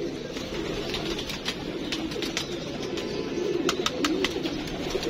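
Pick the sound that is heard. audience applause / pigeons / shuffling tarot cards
pigeons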